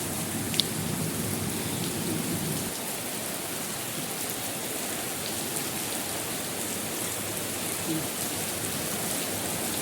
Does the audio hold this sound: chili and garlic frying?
no